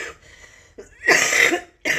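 A woman coughs close up, a weaker cough followed by a harsher, longer hacking cough and the start of another, with no talking.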